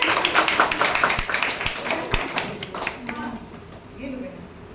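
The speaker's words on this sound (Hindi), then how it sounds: "बहुत जोर जोर से तालियां बजाइए" Audience at a Diwali event clapping loudly on request, a burst of hand claps with sharp individual slaps in the first seconds that fades out, then voices talking.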